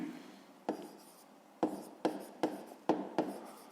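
A pen or pencil scratches across paper during handwritten math work, quiet strokes with sharp taps that fall roughly every half second. No one talks.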